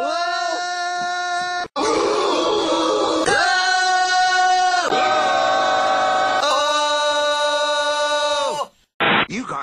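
A group of voices yelling, screaming and hollering in a loud cheer, coming in several long strained bursts with brief breaks between.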